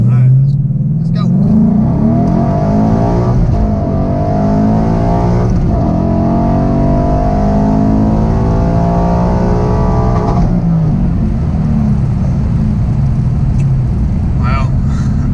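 A Ford Mustang S550 fitted with a Boss intake manifold accelerates down the road, its engine note climbing steadily through the revs, loud and close from inside the car, with a voice talking over it.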